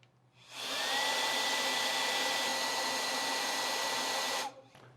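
A Wolfbox MF100 electric duster fitted with a long nozzle blows air in one steady, loud rushing whir that starts abruptly, holds for about four seconds and then cuts off, with no talking.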